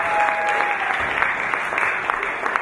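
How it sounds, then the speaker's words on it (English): Dense, steady applause from a crowd at a speakeasy-style show in the Zion Centre, Manchester, continuous clapping at moderate loudness with no pause for its full length. "Give yourselves a round of applause for that"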